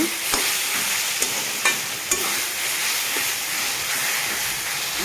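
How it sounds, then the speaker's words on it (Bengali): Shredded cabbage frying with coriander and cumin powder stirred in, a loud, dense sizzle that holds steady, broken by a few brief spoon knocks against the pan, close by with no voices. "চার চামচে ছোটো চামচের এক চামচে ধনের গুঁড়া আর জিরার গুঁড়া ভালোভাবে নাড়িয়ে চাই"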